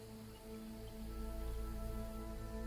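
Steady rain falls in an Assassin's Creed Shadows game scene, a continuous broadband patter under a low rumble and faint sustained tones, with no talking.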